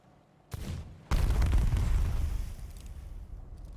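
An object blows up in a video game: a sharp crack is followed by a heavy, booming blast whose deep rumble rolls on and slowly fades over several seconds.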